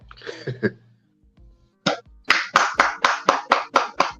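A small studio group on a wrestling podcast claps and taps: a few soft scattered pats first, then a pause, then a series of sharp, evenly spaced loud claps close to the mic, about one every half second.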